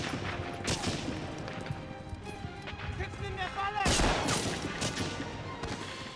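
Dense gunfire from the video game Medal of Honor Frontline rattles in rapid bursts over a constant loud battle din, with voices mixed in throughout.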